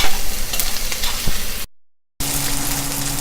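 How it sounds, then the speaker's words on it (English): Onions, ginger and green pepper fry in a pan on high flame, a loud, close, continuous sizzle briefly cut by a moment of silence before resuming. "I cooked the onions on high flame for 2 or 3 minutes"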